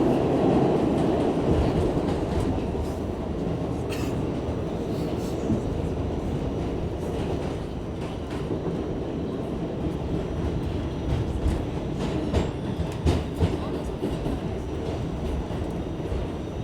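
A New York City subway train rolls steadily along the tracks with a loud, continuous rumble and clatter of wheels, passing another R train, with occasional sharper metallic clicks and no talk.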